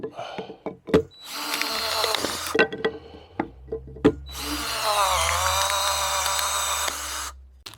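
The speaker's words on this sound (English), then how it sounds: "use the drill, and it just splits it up" A power drill whines in two sustained bursts, bogging down as it bites into firewood to split it, with sharp knocks, taps and cracking between runs.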